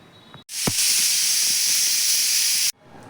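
A pressure cooker cooking chicken on a high gas flame releases steam in a loud, continuous hiss that bursts in abruptly after a brief knock and cuts off sharply after about two seconds, with quieter kitchen background before and after.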